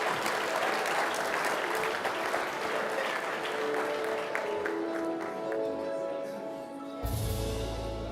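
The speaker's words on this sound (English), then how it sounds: "A round of applause to Emily." An audience applauds steadily for several seconds, the clapping fading gradually toward the end before a sudden low rumble cuts in.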